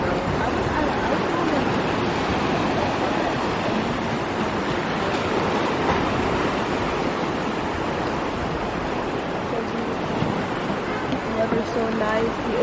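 Ocean surf rolls onto a beach in a constant, full wash of breaking waves, with sea breeze adding a windy rush throughout, loud and close without clear pauses.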